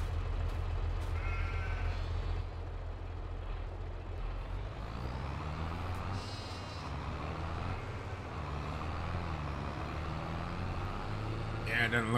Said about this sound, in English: Hi, sheep. We'll just call them sheep.